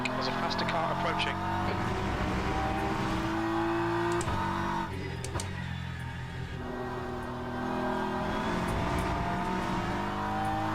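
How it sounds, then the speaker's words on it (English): A faster race car approaches in the Le Mans Ultimate racing game, heard as a loud, continuous engine drone that rises and falls with revs and shifts, under a voice talking. "Okay, Rick, there's a faster car approaching."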